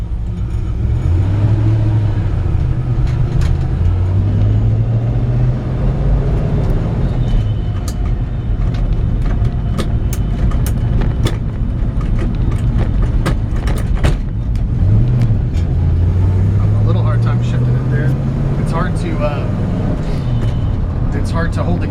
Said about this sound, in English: So let's take it for a drive